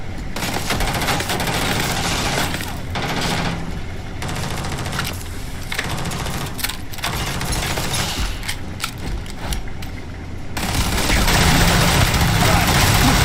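Sustained automatic gunfire in the Starfield video game, loud rapid bursts layered with combat noise and an engine-like hum, continuing almost without pause with some voices over it.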